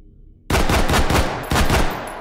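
G3A3 battle rifle firing 7.62 NATO in a shooting video game: two loud bursts of rapid shots, the first starting abruptly from near silence and the second a second later, each trailing off.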